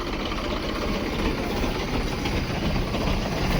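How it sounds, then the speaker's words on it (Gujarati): A tractor-driven pump engine runs for spraying pesticide in a cotton field, a close, steady, continuous drone with a low rumbling throb and no voices. "ટ્રેક્ટર પંપથી કૃષ્ણભાઈ ચાલુ કરી નાખ્યો છે।"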